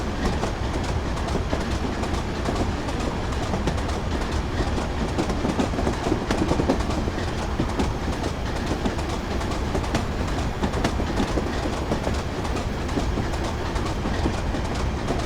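A train from Train Simulator 2015 runs at speed on the Darlington to Durham via Bishop Auckland route, giving a steady, loud rumble with rail clatter that holds evenly throughout, with no voices.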